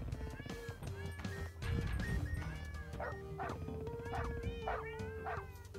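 Cartoonish barks from dogs in the 8-bit side-scrolling video game Crashy Cats pop out in quick short bursts over a bouncy synthesized game melody.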